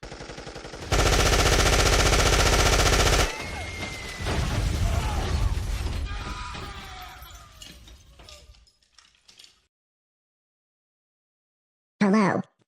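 Heavy machine gun fire from a cyborg's high-caliber weapons bursts out loud and dense for about two seconds, followed by clattering mechanical noise and rumbling debris that fade to silence before a brief sharp sound at the end.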